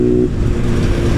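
A modified 2021 Honda Titan 160 motorcycle engine runs loud and close with a steady rev, its low throb holding level throughout with no voices.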